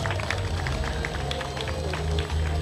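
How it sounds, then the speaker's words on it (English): At a graduation ceremony for a medical training college, an audience claps continuously in a large group, the scattered claps mixing with a low droning hum and murmur. "Clapping, even the parents will clap today."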